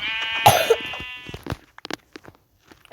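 Sheep bleating in a video game: one clear drawn-out bleat near the start, then scattered short clicks and game sounds, fairly close, with no speech over it.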